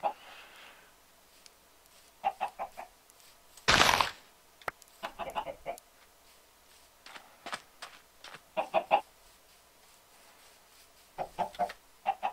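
Video game chickens cluck in short, scattered bursts across a quiet scene, with one louder squawk partway through, fairly faint overall.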